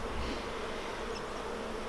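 Honey bees swarm over frames lifted from a hive while a nuc is being made, a dense steady buzz filling the air up close, continuous and without voices.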